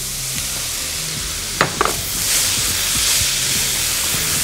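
Corn and vegetables stir-frying in a pan, with a continuous close sizzle and a couple of sharp utensil scrapes as the mixture is turned.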